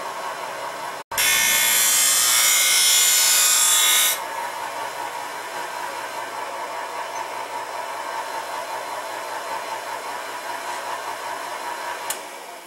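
Ice skate sharpener motor running on a 750-watt continuous power inverter: a loud whirring grind bursts in after a click, lasts about three seconds, then settles into a softer steady motor hum.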